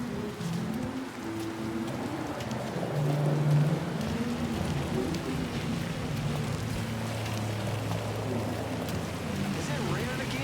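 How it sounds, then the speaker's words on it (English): Steady rain falls on a street in 1960s-style New Orleans, a soft continuous hiss beneath a voice and other low murmurs of people talking nearby. "Is it raining again?"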